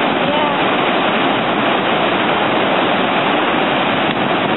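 Nevada Falls in Yosemite roaring nearby, a loud, dense, constant rush of falling water filling the whole stretch without a break.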